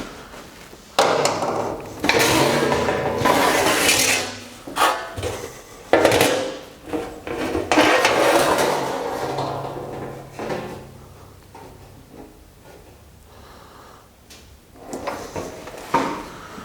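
Sheet metal ductwork bent to 90 degrees on a four-foot box and pan brake, with repeated loud clanks and metallic bangs of the clamping leaf and fingers, then quieter shuffling and knocks.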